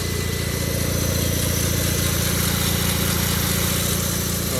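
A boat engine running steadily on its fuel pump with fresh gasoline, a continuous, even idle that holds a constant loud drone with a fast pulsing rhythm for the whole stretch, no voices.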